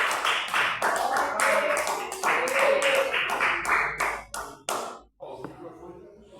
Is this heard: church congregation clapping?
yes